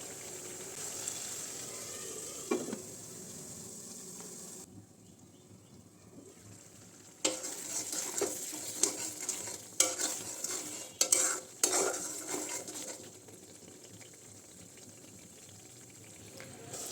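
Spice paste loosened with water bubbling in a pan, stirred with repeated scraping and clinking utensil strokes over a quiet sizzle, nearby and moderately soft.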